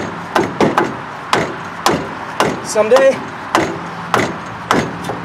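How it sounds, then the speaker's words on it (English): A hammer strikes a Mercedes W123 brake caliper in about a dozen sharp metallic blows at an uneven pace, close and loud, with a brief spoken word partway through. "Now it should come off if you hit it with a hammer"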